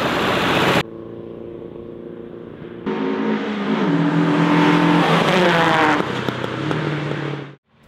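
A 1973 BMW 2002 Ti race car laps a circuit with a loud, close, raspy engine note that revs up and down through gear changes, rising to a strained high wail before cutting off abruptly.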